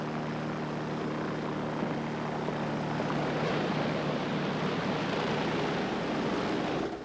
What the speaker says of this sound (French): L'hélicoptère a été rappelé par Kramer.